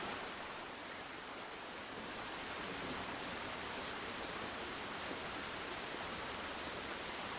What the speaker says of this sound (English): It's like white noise generator.